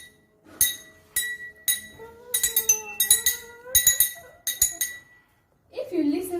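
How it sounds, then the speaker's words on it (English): A metal knife taps a row of same-size glass cups set up as a homemade glass xylophone, producing a series of bright ringing clinks, some single and some quick runs, near and clear. "you will notice that these glass cups are of the same length have the same pitch."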